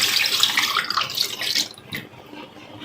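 A jug of water is poured into a pot of chicken nihari, a loud, close splashing gush for about two seconds that tapers into fainter trickling.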